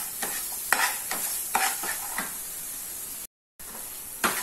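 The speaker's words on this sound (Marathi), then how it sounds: "त्यामध्ये मी 2 चमचे टोमॅटो सॉस टाकणार आहे। व छान मिक्स करून घेणार आहे।" A spoon scrapes and stirs roasted masala with tomato sauce in a pan: a run of close, rhythmic scraping strokes over a soft sizzle, with a short silent gap near the end.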